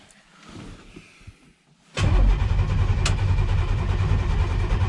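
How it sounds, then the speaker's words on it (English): Engine of a 1965 Impala SS drag car firing up: quiet clicks and a brief crank, then a sudden loud start at about two seconds into a heavy, rumbling idle, close and steady. "We're gonna crank, throw ignition on."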